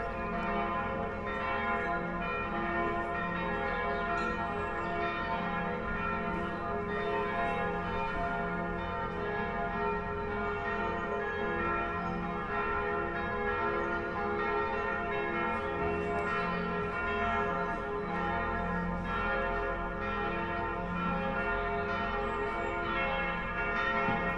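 Church bells ring around Salzburg on an early evening, a dense, sustained wash of overlapping chimes that holds steady and loud throughout.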